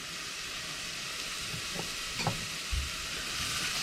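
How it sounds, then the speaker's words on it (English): Garlic sizzles in melted butter in a pan, a steady close frying hiss with a few soft stirring knocks and no talking. "I'm going to add the garlic to that as well. So in goes my garlic."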